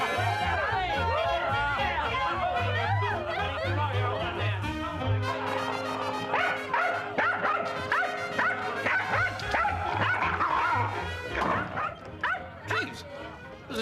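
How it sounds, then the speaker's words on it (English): A dog barks and yips repeatedly inside a New York apartment, its excited barking layered with chatter and music, and people talk over the commotion. "There's a dog in there."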